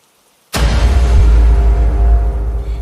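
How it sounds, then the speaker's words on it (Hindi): Steady wash of rain begins abruptly after half a second of silence, a continuous broadband hiss with low rumble, full and sustained rather than faint, with no voices. "बाहर दूर कहीं से बारिश की आवाज सुनाई दे रही थी।"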